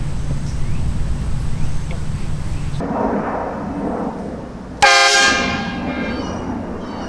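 A loud air horn blares at golfers on a course, one long blast cutting off abruptly, then a sharp, blaring second blast that fades slowly, with a voice speaking around them.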